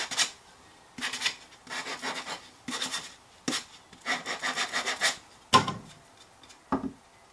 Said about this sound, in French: on donne un petit coup de ponçage sur le morceau